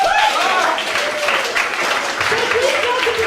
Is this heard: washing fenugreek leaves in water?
no